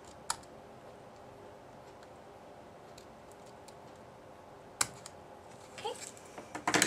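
Faint, sparse snips of scissors trimming excess cardstock while making a greeting card in a quiet room, a few isolated cuts, then a quicker cluster of snips near the end.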